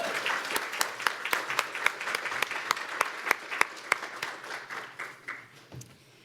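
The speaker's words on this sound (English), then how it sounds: "So how about a round of applause for our" A small group at a hospice and palliative care conference applauds, with scattered individual claps and a few sharp louder ones, fading out after several seconds.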